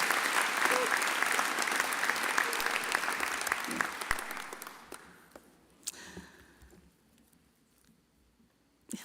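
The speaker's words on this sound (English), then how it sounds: "So I think we deserve a round of applause for a collective effort." Loud, dense round of applause from the audience at a graduation ceremony, sustained for about five seconds before thinning into scattered claps and quiet room noise, with a brief clap burst at the very end.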